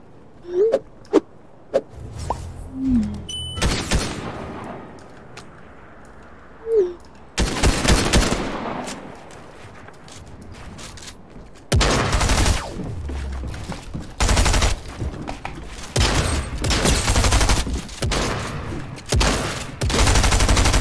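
Shotgun fire in the Fortnite video game, with a few isolated blasts early on and then dense bursts of repeated shots in the second half, loud and close.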